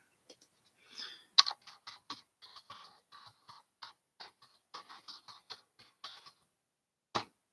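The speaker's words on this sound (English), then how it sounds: "I'm just going to type this in the thing here" Irregular keyboard clicks from someone typing on a computer, a run of close, quick taps with short pauses and one louder stroke, no talking.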